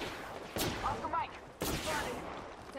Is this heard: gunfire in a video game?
yes